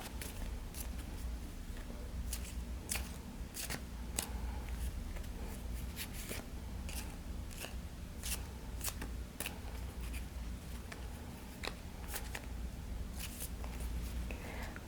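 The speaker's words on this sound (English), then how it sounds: "give the remaining cards a good shuffle" Playing cards being shuffled repeatedly, a soft papery riffle with sharp snapping flicks at irregular intervals over a low steady hum, no voices.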